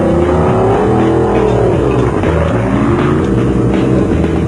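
Off-road race vehicles at the 2000 Settlers Off Road Race in Tarkastad, South Africa, leaving the start, loud close engines revving and accelerating with shifting pitch, a dense continuous roar that rises and dips throughout.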